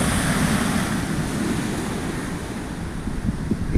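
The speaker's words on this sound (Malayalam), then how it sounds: "കടലിങ്ങനെ ഇളകി മറിഞ്ഞുകൊണ്ടിങ്ങനെ ഒരു വ്യൂ ആണ്." Rough sea waves churn continuously, a loud broad wash of surf mixed with heavy wind buffeting the microphone, with no voices.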